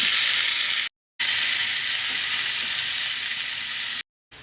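Noodles and shrimp dropped into hot broth in a pan for lomi, giving a loud, steady close sizzle and bubbling hiss that cuts out briefly twice.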